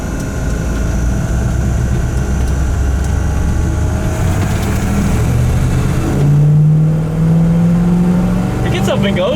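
A 1960 Chevrolet Impala engine running and accelerating, a close, steady motor drone that swells into a louder rev near the end, with people talking over it.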